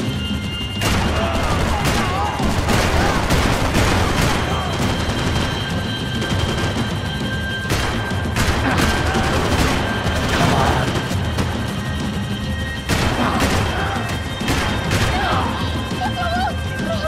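Dense, continuous gunfire in the action video game Max Payne 3, with loud volleys and crashing impacts throughout. Voices shout over the gunfire.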